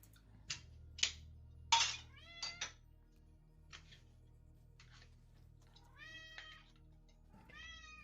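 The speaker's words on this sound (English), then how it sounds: "Is a loud cat." A domestic cat meows loudly several times in a row, each call rising and bending in pitch, close by in a quiet room with a faint low hum underneath and no talking.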